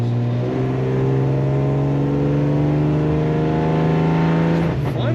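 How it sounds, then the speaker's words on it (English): A 1963 AMC Rambler Classic 550 two-door sedan with an automatic transmission gives a steady, low exhaust rumble while driving, holding an even tone up close with no talk. "a very nice slight rumble coming out of the exhaust tip of this car"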